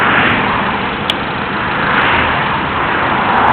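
A car engine idles beside a highway during a roadside tire change, its low rumble blending into a steady wash of passing traffic noise, fairly loud and continuous with no voices.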